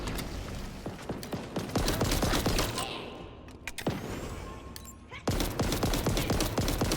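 Disruptor pistol fire in Halo Infinite cracks out in rapid, dense bursts of repeated shots, loud and continuous with brief gaps, layered over game effects.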